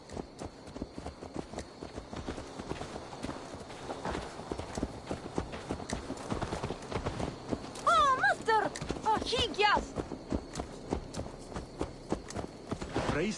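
Rhythmic clip-clop of horse hooves trotting steadily in Assassin's Creed Valhalla, with a whinny partway through, layered over game music and speech.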